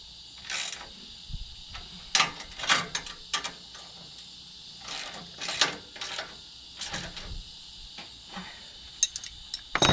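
A bolt on a Buyers LT 40 trimmer line spool rack is tightened with a ratcheting tool, giving repeated short clicking bursts in irregular spurts close by.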